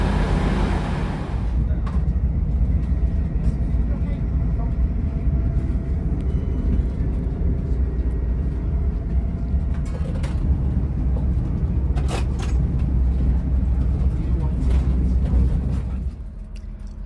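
A steady low rumble and rattle of a train rolling along the rails toward King's Cross, London, continuous and close, with a few brief higher clicks, easing off at the end.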